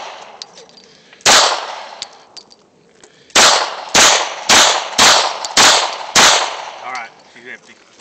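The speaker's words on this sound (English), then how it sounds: "Shelly Shell shooting a Ruger 40 cal" Six sharp, loud Ruger .40 caliber pistol shots ring out close by, one alone and then five in a quick, uneven string, each followed by a brief metallic ring-out.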